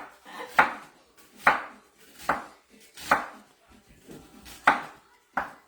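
Onions chopped with a knife on a board in a home kitchen, about six sharp, evenly spaced chops with brief gaps between them, close and fairly loud with no talking.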